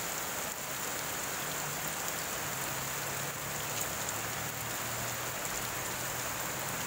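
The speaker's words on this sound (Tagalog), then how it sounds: "Straight na po itong ulan na to, mahigit isang linggo na po." Steady heavy rain in Cebu City during a week-long rainy spell, a dense unbroken hiss of drops on surfaces throughout, with no voices.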